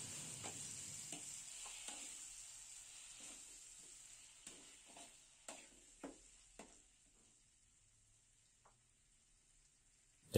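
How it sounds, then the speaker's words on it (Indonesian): Sweet potato spice paste for sambal sautéing in frying oil, with a steady sizzle and a series of scraping stirs that fade toward the end, leaving near silence. "kita tumis"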